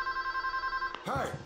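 Telephone rings in Scarface: The World is Yours sound as a loud, close electronic trill with rapid pulsing repeats for about a second, then a voice starts talking over it as the ringing stops.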